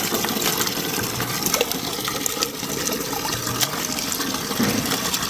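Fish pieces being rinsed by hand in a basin, with a steady run of splashing, gushing water filling the whole span close up and fairly loud, and no talk.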